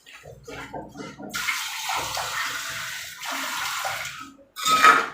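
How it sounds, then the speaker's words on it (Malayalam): After a moment of talking, water pours steadily into a pan of fish curry, a close rushing splash that stops briefly and resumes at the end. "ഇനി നമുക്ക് വെള്ളം ഒഴിച്ചു കൊടുക്കാം"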